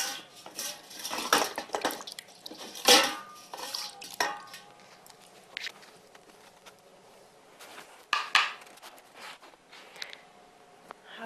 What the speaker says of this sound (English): A little warm for her, so I'm going to dip them in the cold water.